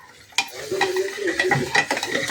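Stirring onion-garlic masala chutney in a pan: a utensil scrapes and rattles repeatedly against the metal in an irregular rhythm over a soft background sizzle, close and moderately loud.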